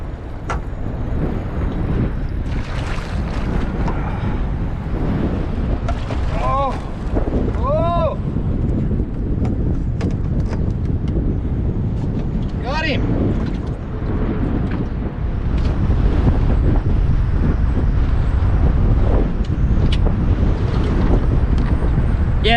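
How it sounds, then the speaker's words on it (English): Strong wind buffets the microphone in a steady low roar on open water during shallow-water flathead fishing from a small boat, with water sloshing and a voice talking at times. "Really, really windy."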